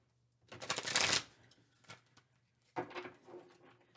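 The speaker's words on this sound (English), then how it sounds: "As you can see, I'm already shuffling them" Bonfire Tarot cards being shuffled close by in two brief bursts of papery riffling and flicking, the first louder and fuller, separated by a quiet gap with a soft tap, over a low steady hum.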